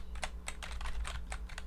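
Soft keyboard typing on a computer, a steady run of light clicking keystrokes in bursts, close and quiet over a faint low hum, with no talking.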